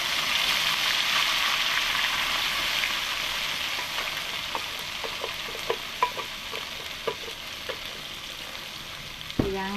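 A blended paste of ginger, garlic and turmeric hits hot oil, giving a steady loud sizzle with occasional stirring scrapes and clicks from a utensil.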